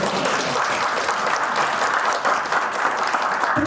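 An audience at a university-city debate forum in Busan bursts into dense, sustained applause, loud and even throughout.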